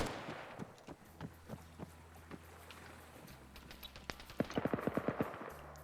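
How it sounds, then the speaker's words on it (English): Gunfire in a team-based shooter video game: scattered single shots, then a rapid burst of automatic fire near the end, fairly faint under a low background hum. "Starts firing, gets a kill of someone crossing."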